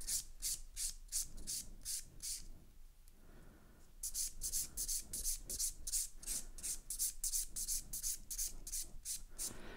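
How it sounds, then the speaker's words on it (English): Nail filing on an acrylic-gel hybrid sculpted nail with a 180 grit zebra file, a close, steady run of rhythmic rasping strokes with a brief pause near the middle before the strokes resume. "the sculpt is really easy to file. I'm only using a 180 grit zebra."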